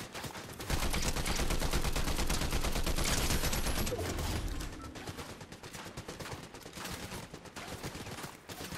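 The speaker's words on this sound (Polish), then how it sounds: "Oni strzelają do mnie!" Sustained rapid gunfire in Fortnite, a loud, dense volley through the first few seconds that eases into steadier, somewhat quieter shooting.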